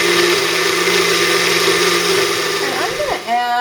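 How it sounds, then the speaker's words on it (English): An electric blender whirs loudly and steadily while pureeing a roasted pepper sauce, running continuously for a few seconds before winding down at the end. "I'm going to turn on the blender. It's going to be a little loud for just a moment."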